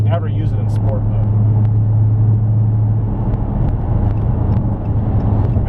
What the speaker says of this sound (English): That exhaust is freakishly loud.